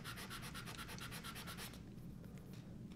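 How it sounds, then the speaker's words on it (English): Quick rapid back-and-forth rubbing of sandpaper on walnut, close and steady, slowing into lighter strokes near the end. "I removed it with some quick sanding"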